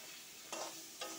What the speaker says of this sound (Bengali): আর একটুখানি ভাজা হবে।